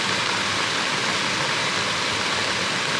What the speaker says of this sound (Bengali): বন্ধুরা এখান থেকে ঝর্ণার থেকে জল পড়েছে পাহাড় থেকে